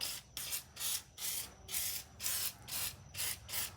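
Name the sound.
spraying brake cleaner into an engine part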